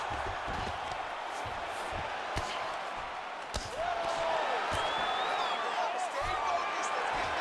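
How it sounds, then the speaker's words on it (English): A large crowd in a UFC fighting video game roars in a continuous wash of noise while a commentator talks over it, with occasional thuds and whistles. "you heard the crowd pop after that grueling ground battle"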